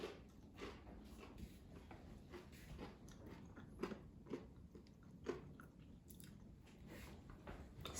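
Crunchy bites into air-fried frozen popcorn shrimp with crispy breading, several close, sharp crunches scattered among steady chewing, with no talking.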